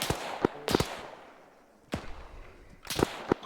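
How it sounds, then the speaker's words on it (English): Sharp gunshots crack in the Arma 3 military game, a few separate close bursts spaced over a few seconds with quiet gaps between. "Shots at me."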